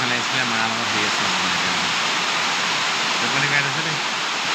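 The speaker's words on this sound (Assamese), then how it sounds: "আজি বহুত ডাঙৰ বৰষুণ দি আছে" Heavy rain pours down as a dense, unbroken roar, with a person talking over it for most of the stretch.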